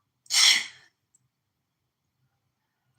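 A single loud, close sneeze bursts out near the start, lasting about half a second, followed by near silence with only a faint tick afterward.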